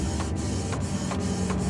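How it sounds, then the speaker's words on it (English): A printer running pages off in an office, a loud mechanical whir with a regular rhythmic pulse of feed strokes repeating about every 0.4 seconds. "The printer stopped."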